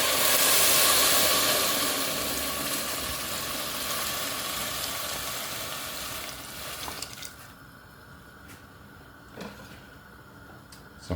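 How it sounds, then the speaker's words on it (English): Boiling water pours into a pot of broccoli soup on a gas stove, a loud rushing hiss that fades after about seven seconds to quiet kitchen ambience with a few soft knocks. "Add some boiling water."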